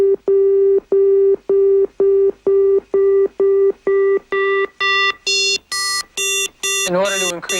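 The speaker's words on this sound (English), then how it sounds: "So listen to what happens as you increase the level of a modulator." An FM synthesizer tone repeats as a series of evenly spaced beeps, each growing brighter and harsher as the modulator level rises, ending in a warbling sweep.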